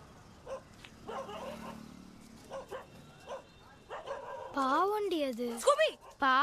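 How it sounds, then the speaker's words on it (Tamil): A dog on a roadside lets out a few sharp yips and then a quick burst of barking close by, with people talking around it. "பாவமா ரோட்ல இருக்க நாய்கிட்ட எல்லாம் சண்டை போட்டு"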